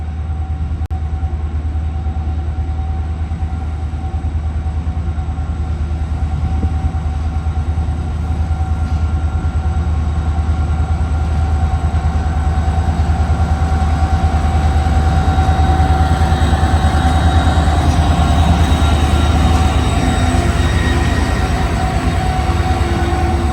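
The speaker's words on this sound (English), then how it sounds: "CSX train L251-03 with a veteran SD50-3 switcher unit switching some loaded trash cars" A CSX SD50-3 switcher locomotive switching loaded trash cars in a rail yard gives a steady, loud diesel drone with rumbling railcars that builds slightly over the stretch, continuous and without talk.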